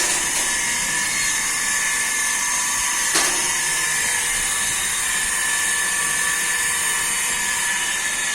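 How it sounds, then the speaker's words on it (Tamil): Raw water motor of a 500 litres per hour RO water purification plant running at close range, a steady, even high-pitched whine and hiss, with one brief click partway through. "ரா வாட்டர் மோட்டர் ஸ்டார்ட் ஆகிடுச்சு"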